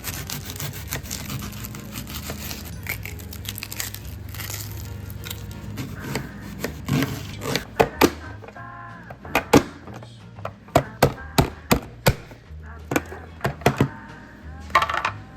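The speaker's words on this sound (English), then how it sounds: "we just saw Julie dice up a medium-sized red onion using one of her favorite tools, the Chop Wizard" A medium red onion is diced with a Chop Wizard chopper, first a rough scraping stretch and then a run of sharp, close, repeated clacks as the blade plunges down, no voices.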